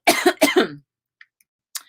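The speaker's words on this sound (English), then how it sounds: "Y'all just heard me cough a minute ago" Two quick, sharp coughs close to the microphone, followed by near silence and a faint breath or rustle at the end.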